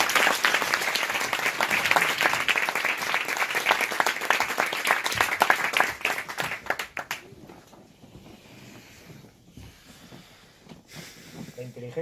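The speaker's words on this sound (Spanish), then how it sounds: "darle un aplauso a David García Baño" Audience applause for speaker David García Baño at a Google summit in New York, loud dense clapping for about seven seconds that then fades to scattered claps and room noise.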